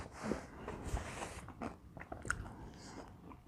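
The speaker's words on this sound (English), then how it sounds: "The crust, I don't know if you can hear it on the mic, it is chewy." Close, crunchy chewing and biting on peach cobbler crust, made in a Ninja Foodi, with repeated moist mouth sounds and irregular crunches over about three seconds and no talking.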